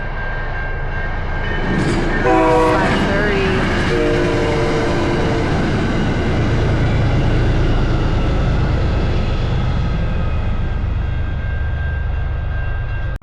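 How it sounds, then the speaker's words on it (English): A train rolls through the Berkley road crossing on the South Coast Rail line, sounding a loud, sustained horn blast early on over a steady rumble of wheels and cars that continues at close range throughout. "This is probably the 5th train that's come through since"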